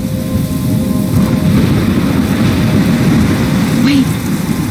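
A thunderstorm in the video game Life is Strange brings steady, loud rain hiss with a low rumble of thunder underneath. The storm holds constant with no pauses.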